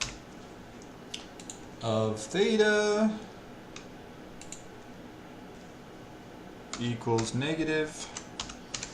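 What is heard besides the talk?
typing on a computer keyboard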